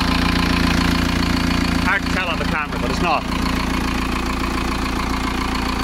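VW T25 / T3 camper with a swapped TDI diesel engine idling, a steady mid-pitched drone with a regular knock, heard under someone talking briefly.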